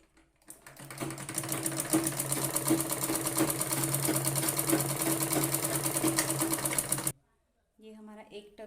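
A sewing machine runs continuously for about six and a half seconds, stitching a tuck on the front piece of a blouse, then stops before a voice speaks briefly.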